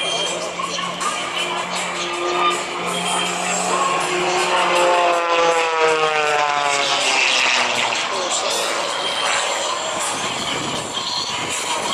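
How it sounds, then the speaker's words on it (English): A Mustang aircraft flies past at the Wings Over Illawarra air show in 2021, its loud, continuous engine roar falling in pitch as it passes, with no one speaking. "It's Mustang. Paul Bennet airshow."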